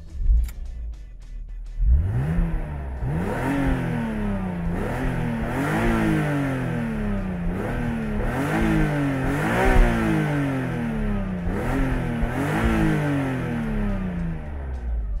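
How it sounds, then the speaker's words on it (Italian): The inline six-cylinder of a BMW Z3 M Coupé, warmed up and standing still, starts and then revs repeatedly in rising and falling sweeps, loud and close, with no one speaking. "questo 6 cilindri in linea canta divinamente"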